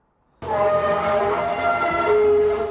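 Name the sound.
mysterious trumpet-like sound in the sky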